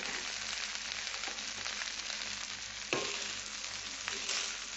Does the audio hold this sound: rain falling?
no